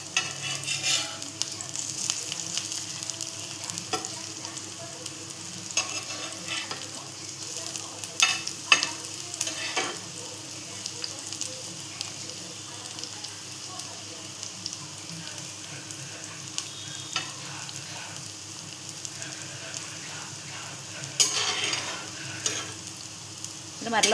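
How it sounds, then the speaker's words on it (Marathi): Vadas deep-frying in oil over a low gas flame, a quiet steady sizzle with scattered crackles and the occasional stir or scrape of a utensil, continuing evenly throughout. "कमी गॅसवर तळायचे, ते जास्त फ्राय करायचे"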